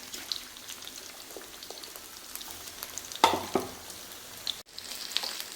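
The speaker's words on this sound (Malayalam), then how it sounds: "എന്നിട്ട് ഇനിയും ഫ്രൈ ചെയ്യണം" Chicken pieces frying in hot oil give a steady close crackle and sizzle, with occasional clatter of a utensil stirring and lifting the pieces and a brief sharp break, with no talking.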